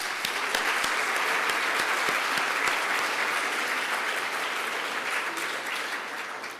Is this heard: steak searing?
no